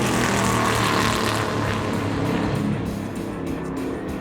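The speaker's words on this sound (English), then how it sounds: "I bounced off the rev limiter a few times, which makes this kind of sound." A NASCAR race car at Auto Club Speedway runs loud and close at speed, its engine roar sustained, then stuttering and dropping slightly as it bounces off the rev limiter.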